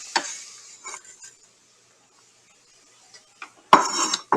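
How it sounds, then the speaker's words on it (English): Celery dropped on top of chili ingredients in a cooking pot, giving a few short clinks and rustles near the start, a long quiet stretch, then a louder clatter of pot and utensil near the end. "now I'm going to put my celery on top"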